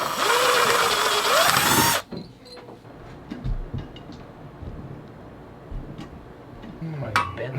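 A screwdriver at work in a basement pantry: a loud, dense mechanical burst for about two seconds, then faint, irregular ratcheting clicks and small taps close by.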